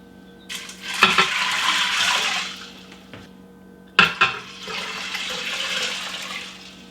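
Fresh water pours into an Instant Pot holding rinsed dry beans, a loud steady splashing rush in two bursts with a brief pause between, each starting with a clatter.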